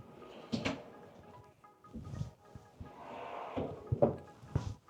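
Two pull-out hamper cabinet drawers in a luxury Houston home slide open and shut, giving a few soft wooden knocks and thuds spaced over several seconds in a quiet room.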